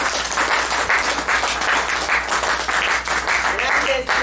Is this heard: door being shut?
no